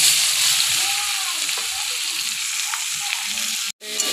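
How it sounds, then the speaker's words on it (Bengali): Chopped onion sizzling steadily in hot oil with dried red chilli, stirred now and then during Bengali cooking of a jackfruit and prawn dish, a close, even frying hiss with light scraping touches and a brief cut near the end. "পেঁয়াজ কুচিটাকে ভালো করে ভেজে নেব লাল লাল করে"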